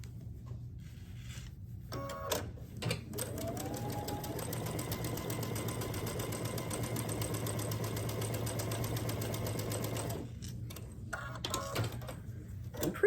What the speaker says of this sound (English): stitch down this side right here